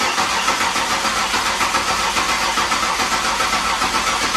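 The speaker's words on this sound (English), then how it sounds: "let's crank this engine over and get it primed." A 2008 Ford Explorer with a 4.0 V6 engine cranks over steadily and continuously, a loud, dense mechanical churn that holds without pause throughout.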